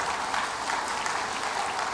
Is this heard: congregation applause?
yes